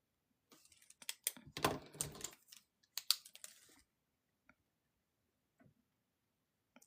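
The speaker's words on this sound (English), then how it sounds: "I'm going to write that down" Pen writing in a paper planner, a close, quiet scratching burst of quick strokes for about three seconds, then a few faint isolated ticks and taps in otherwise near-silence.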